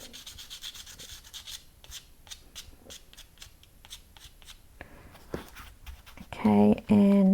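Soft pastel chalk rubbed lightly over embossed paper: a run of close, dry, brisk scratchy strokes in quick rhythm, with someone talking throughout and a louder handling noise at the end.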